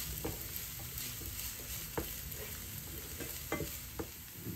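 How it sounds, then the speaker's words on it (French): Chopped onion and garlic frying in olive oil in a pan, a steady close sizzle broken by irregular scraping stirs of a utensil, with no voices. "J'y ajoute ensuite un oignon haché finement et je fais revenir"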